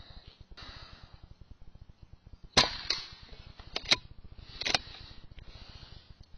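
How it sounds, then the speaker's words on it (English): A gun fires three crisp, fairly quiet shots through a chronograph at a target, spaced about a second apart, over a steady low mechanical hum. "My gun's supposed to be shooting 890."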